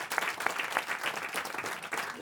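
TV studio audience applause, brisk rhythmic clapping from many hands, close and lively, holding steady for a couple of seconds with no one speaking.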